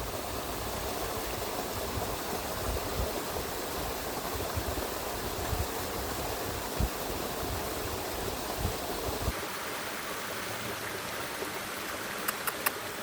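River water flowing steadily, a continuous broadband rush close by that softens and thins after about nine seconds, with a few faint ticks near the end.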